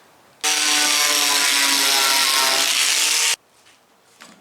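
An angle grinder fitted with a 4.5 inch wire cup brush strips paint from a truck tailgate, a loud steady harsh whirring grind lasting about three seconds, then cutting off abruptly into quiet.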